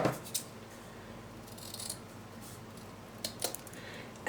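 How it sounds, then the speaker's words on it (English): Scissors cutting diagonally through folded ribbon for a wreath, giving faint, brief snips and rustles over a quiet room background, close by with no talking. "you're going to use your scissors and you're going to cut diagonally."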